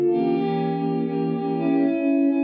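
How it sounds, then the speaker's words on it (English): Electric guitar pad swells shaped with a volume pedal and long delay, a smooth sustained chord fading in and holding with soft layered echoes, alone and steady. "Longer delays can create a smoother, more pad-like texture"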